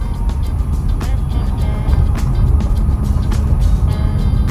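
Low, steady rumble inside the cabin of a new electric car driving at around 20 km/h over paving blocks, with a continuous road drone and faint rhythmic ticks from the block joints.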